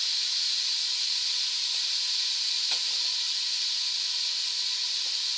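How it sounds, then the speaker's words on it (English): Bacon and ham frying in a pot give off a steady, loud broadband sizzle and hiss that runs unbroken throughout, with a faint brief clatter partway through and no one speaking. "keep that meat moving, and we're going to cook up this bacon and ham"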